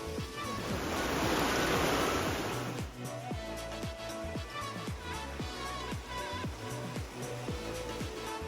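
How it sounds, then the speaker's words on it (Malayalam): Water flows between rocks in a wadi in Fujairah, a steady rushing wash that swells loudest early on, then continues beneath a rhythmic, pulsing tonal sound. "ഈ കാണുന്ന ആ ഭാഗത്ത് നിന്നാണ് ഈ വെള്ളം ഒഴുകി വരുന്നത്."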